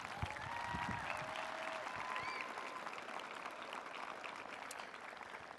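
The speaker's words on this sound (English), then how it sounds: "So a round of applause for those individuals, please." A graduation audience at a high school ceremony applauds, a dense, even wash of clapping from a large crowd that holds steady and then slowly thins toward the end, with a few faint voices and whistles mixed in.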